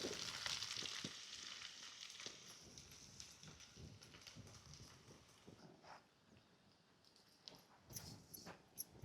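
Crushed coconut frying in hot oil, a steady sizzle and crackle running throughout with scattered sharp pops and occasional scrapes, moderately close and fading slightly toward the end.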